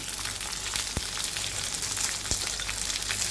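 Garlic, shallots and curry leaves fry in hot oil for a Thrissur-style tapioca stew, giving a steady, moderately quiet crackling sizzle with two soft knocks.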